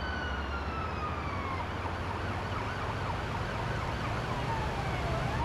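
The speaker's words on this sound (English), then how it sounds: "I wish it would let us cycle the sirens." A wailing ambulance siren sweeps up and down in the video game Ambulance Life, continuous and fairly faint over low engine and road noise, with no talking.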